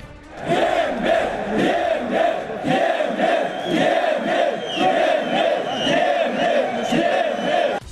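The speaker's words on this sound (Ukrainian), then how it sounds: "з таких гучних вигуків розпочався тиждень у середмісті Києва" Hundreds of angry conscript soldiers of the National Guard shouting in unison in central Kyiv, loud rhythmic mass chanting from a dense crowd that repeats in steady waves for the whole stretch.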